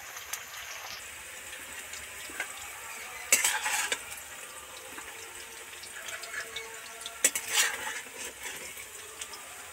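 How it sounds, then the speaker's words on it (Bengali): Deep-fried potatoes are lifted out of hot oil with a gentle bubbling sizzle, broken by two sharp metal clinks of a utensil against the pot and lighter rustling in between. "আলুগুলো তো সব ডিপ ফ্রাই করে ভেজে নিলাম, এবার তেল থেকে ছেঁকে উঠিয়ে নেব।"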